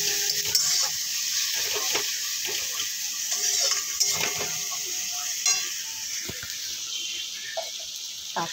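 A fish-head and potato dish sizzles in a pan while sugar is stirred through it, with close scraping and clinking of a utensil over a bright, steady frying hiss and no talking.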